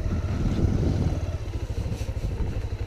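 A motorcycle engine running at low idle as the bike is parked near Hanumangarhi Temple in Katghora, a steady close rumble that settles and pulses slightly toward the end.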